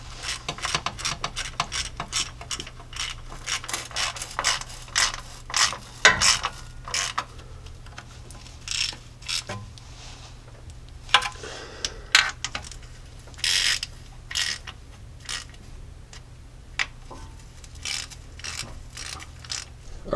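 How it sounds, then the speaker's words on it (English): Transmission pan bolts on a 1978 Jeep J10 with a TH400 automatic are hand-tightened with a ratchet in a crisscross pattern, giving rapid, quiet clicking bursts with short pauses between them and no talking. "we'll evenly tighten this all the way around by hand"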